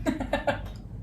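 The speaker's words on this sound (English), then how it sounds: "I was clearing my throat." A person clears their throat in a few quick, rough bursts that fade into quieter rasping, close and fairly loud with no talk over it.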